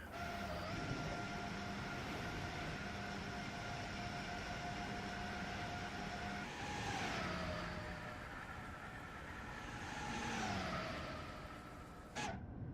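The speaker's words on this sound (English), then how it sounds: "The Acela sounds like F1 cars." An Amtrak Acela train in Train Sim World 3 runs steadily with a droning tonal hum between New York and Trenton, its pitch dipping twice as it passes points along the line, ending with a sharp click.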